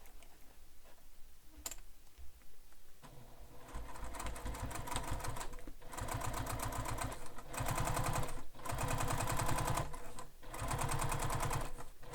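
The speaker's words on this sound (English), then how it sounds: "I'm going to backstitch in that corner again, just for extra security." A sewing machine stitches a beach bag pocket corner with a backstitch. The motor's steady rapid clatter starts after a quiet pause, runs loud and close, and breaks off briefly a few times between bursts.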